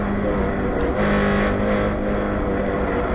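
A touring race car in the United States Touring Car Championship drops to fourth gear on track, its engine a steady loud roar with a brief rise near the middle, continuous throughout with no talk.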